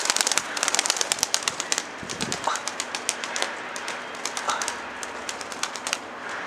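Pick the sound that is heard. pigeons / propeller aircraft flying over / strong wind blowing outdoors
pigeons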